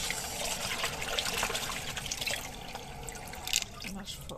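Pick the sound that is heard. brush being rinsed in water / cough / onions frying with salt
brush being rinsed in water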